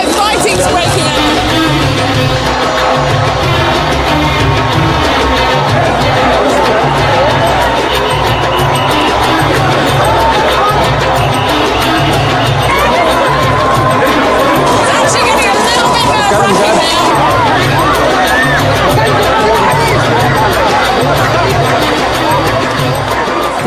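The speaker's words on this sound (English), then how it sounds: "They're trying to control the crowd with a barrier here, but it looks like fighting's breaking out." Dense crowd chaos at a religious procession in Egypt as fighting breaks out, a loud continuous din of shouting, chatter and commotion with rumbling low thuds throughout, swelling near the middle.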